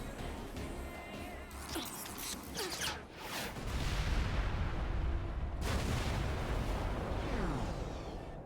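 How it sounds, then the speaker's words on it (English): Missiles launch in the action game Nier Automata, giving a burst of sharp blasts and whooshing bangs followed by a loud, sustained roar of explosions and gunfire. "Oh, now I got missiles, too?"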